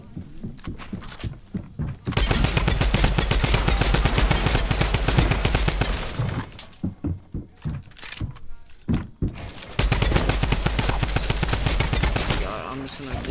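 Rapid, loud gunfire in Fortnite, sustained bursts of automatic shots with a short lull in the middle before another dense volley, close and dominant.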